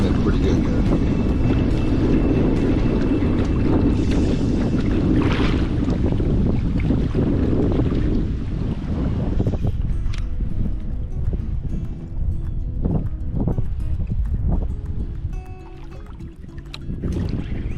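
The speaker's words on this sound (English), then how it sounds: "You can see the wind's kicking it pretty good there." Wind blows strongly across a lake during musky fishing from a float tube, roaring against the microphone in a dense, steady rush with water lapping, while someone talks over it.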